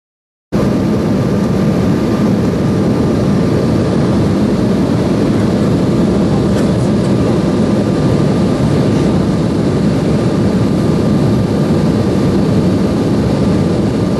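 A jet airliner roars loud and continuous after landing in Luxor, Egypt, the heavy engine noise starting abruptly and holding steady throughout, heard from inside the cabin with a faint thin whine above it.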